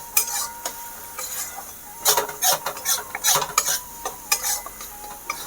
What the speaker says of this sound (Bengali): অল্প জল দিচ্ছি যাতে মশলা পুড়িয়ে না যায় কষাতে সময়